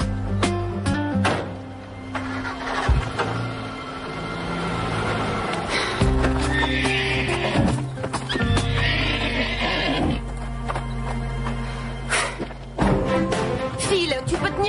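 A horse neighs loudly and its hooves clop on the ground during a ride out, with several whinnies and hoof thuds, plus scattered other noises around them.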